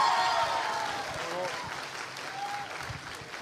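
Applause at a master's degree graduation ceremony honouring Monsieur François Benmad, a steady, fairly soft wash of clapping from the audience, with a few faint voice fragments in the background.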